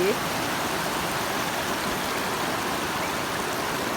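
Steady rushing water pours continuously, a dense hiss like a waterfall heard from nearby, at Seven Colours Waterfall in Thailand.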